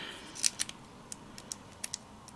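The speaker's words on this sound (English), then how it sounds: "I'm going to go ahead and cut the acetate sheet just so that it's ready" Scissors snip through a thin acetate sheet guarded by a metal shim, giving a few sharp, quiet cuts spaced irregularly, with a close double snip early on and isolated clicks later, no talking.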